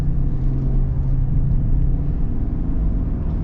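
A 2025-era full-size pickup truck pulls away from a stop, its engine giving a steady, loud low rumble that holds evenly throughout, heard from inside the cab with no talking.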